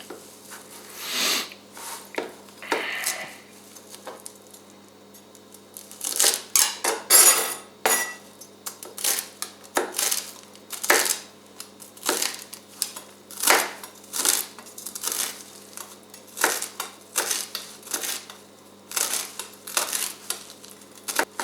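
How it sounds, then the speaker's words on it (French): A knife chops repeatedly against a cutting board, in uneven bursts of sharp taps with short pauses, close by and without talk. "Moi j'aime bien couper les trucs avec des couteaux."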